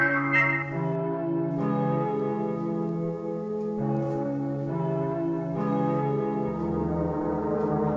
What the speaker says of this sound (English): you heard the bell of the clock tower ring